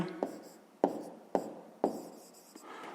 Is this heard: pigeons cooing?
no